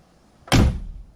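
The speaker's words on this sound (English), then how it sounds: "That door shut." A car door on a 1964 Plymouth Belvedere with a six-cylinder engine shuts once in a single solid, close, loud slam, followed by a short decaying rumble, with no talk around it.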